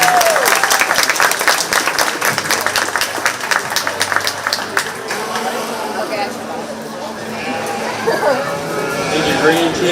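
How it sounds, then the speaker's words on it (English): Crowd applause at a 4-H/FFA sheep show at the county fair, loud dense clapping that thins out midway, with an announcer's voice and chatter over the crowd. "Let's be sure to give her a big round of applause"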